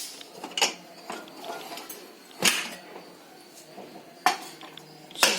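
Pressure cooker lid being opened after cooking pumpkin and carrot: sharp metallic clanks and clicks of the lid and pot, a few distinct knocks spread across a quiet kitchen background.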